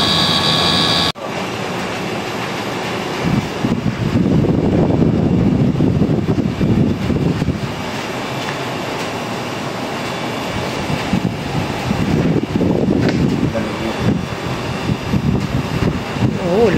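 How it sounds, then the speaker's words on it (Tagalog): A Daikin air conditioner with a C4 error runs its compressor at full speed, a loud steady mechanical roar and hum that cuts in after a brief pause and holds with slight swells throughout. "Naka full speed na yung compressor niya."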